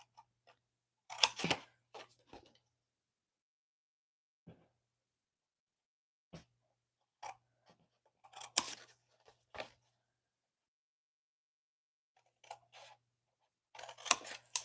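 Scissors snip through pieces of craft paper at a crafting table in sparse, quiet clusters of crisp cuts separated by stretches of near silence, close to the microphone.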